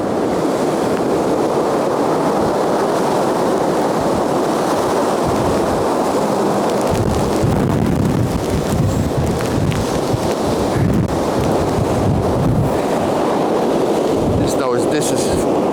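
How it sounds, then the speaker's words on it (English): Strong wind from Storm Éowyn blows and roars continuously around trees, with heavy buffeting on the microphone and gusts surging loudly for the whole stretch, while someone talks over it. "You can hear the wind blowing"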